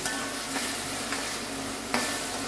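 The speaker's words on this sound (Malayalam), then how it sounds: "ഇഞ്ചി വെളുത്തുള്ളി പേസ്റ്റ് കൂടെ ഇതിലേക്ക് കപ്പ ഇട്ട് കൊടുക്കും ഇതൊന്ന് ഒരു ബ്രൗൺ നിറായിട്ട് വരട്ടെ" Tapioca pieces sauté with ginger garlic paste in an oiled pan, a dense continuous sizzle broken by a few sharp stirring scrapes, close and fairly loud.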